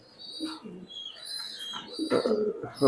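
Soft pigeon coos and low murmuring calls close by, with a few brief rustles and faint chirps in between.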